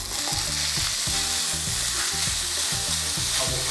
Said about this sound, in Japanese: フライパン温まったんでお肉焼いていきますね